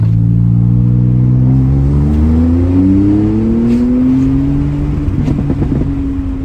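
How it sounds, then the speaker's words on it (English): A turbocharged 2017 Porsche 911 Carrera engine revs up loudly and close, rising in pitch through the gears, with a few crackling pops near the end. "So the engine definitely sounds good, and you hear it, those turbos."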